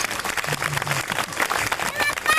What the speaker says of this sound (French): Quelques applaudissements pour notre vieil Arthur